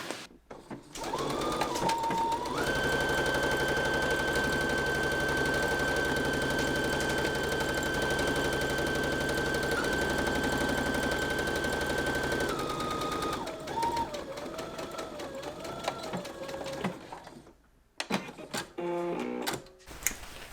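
A sewing machine stitches all the way around the top of a waistband in a long, steady, loud mechanical run, pausing briefly before short bursts of stitching near the end.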